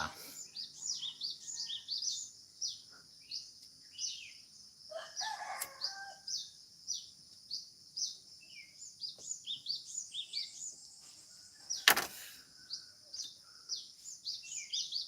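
Birds sing and chirp outdoors in steady repeated high calls, with a rooster-like crow among them, moderately distant, plus a brief rustle and one sharp knock, no talk.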